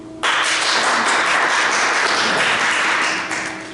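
An audience at a city planning task force meeting breaks into sustained applause, a dense even wash of clapping that starts suddenly and tapers slightly toward the end.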